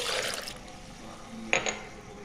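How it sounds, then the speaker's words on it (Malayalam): Milk pours into a mixer jar holding tender coconut pieces, a brief gurgling liquid rush, followed by a quieter stretch and a small clink against the jar. "ഇനി നമുക്ക് ഇതിനകത്തേക്ക് പാലൊഴിക്കാം."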